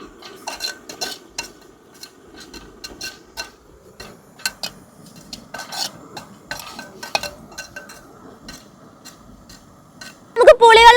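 Spice powders roasting in a pan for a spicy fish curry cooked outdoors on a hilltop, with a quiet sizzle and repeated light metallic scrapes and taps of a spoon stirring, close, ending in a short burst of louder noise.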